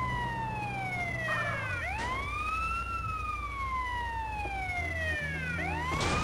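An ambulance in GTA San Andreas Definitive Edition wails its siren continuously, sweeping up and down in long cycles over a low engine hum, loud and close, without voices.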